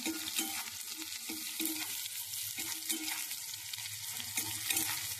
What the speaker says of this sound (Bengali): এটা আমি কড়া করে ভেজে তারপর নামাবো